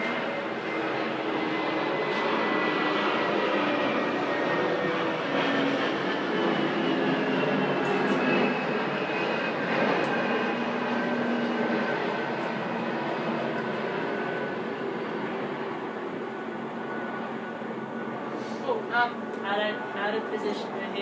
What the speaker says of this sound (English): Hold that thought while the plane goes overhead.